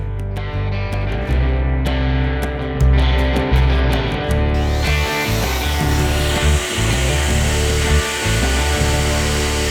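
Wood router cutting plywood during a DIY camper van build, a loud, continuous high-speed motor whine with a steady cutting roar that dips briefly as the tool moves, no voices.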